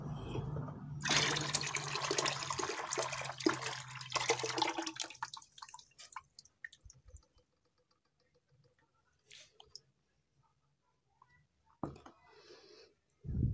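Chocolate powdered milk poured into a liquid organic fertilizer fermentation mix, giving a close splashing pour for about four seconds, then fading into faint drips and scattered handling knocks.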